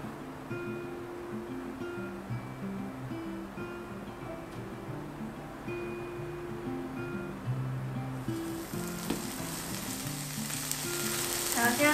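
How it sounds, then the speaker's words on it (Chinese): Tofu skin fries crisp in a pan, giving a steady close sizzle, and a few light stirring scrapes come in near the end. "现在豆包啊煎到有点那样酥酥脆脆的时候，可以先把那个玉米笋放下来一起煸"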